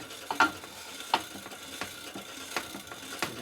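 Abrasive grit lapping metal on a 1947 Harley knucklehead engine part, a faint gritty scraping with irregular grinding strokes and soft clicks recurring about once a second, close and quiet with no talking.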